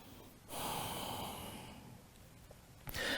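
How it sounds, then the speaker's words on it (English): A long, loud, airy exhale during a vinyasa yoga flow in down dog, with a quieter breath before it and a fresh inhale starting at the end, close and alone. "Keep breathing here."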